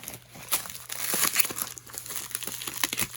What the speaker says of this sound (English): Some nice tape ASMR for you guys.